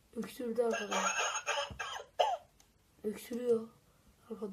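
A novelty anti-smoking gadget with two sensor eyes lets out short coughing sounds when a cigarette is held up to it, with people talking over and between the coughs.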